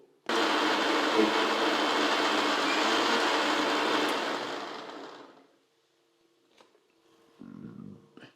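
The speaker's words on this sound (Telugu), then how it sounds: "మిక్సీ చేసేయండి, పట్టండి, మెత్తగా జ్యూస్ చేయండి" A kitchen mixer grinder blends coconut milk into a thick juice with a loud, steady, close whirring roar for about five seconds, then winds down to silence before a brief voice speaks.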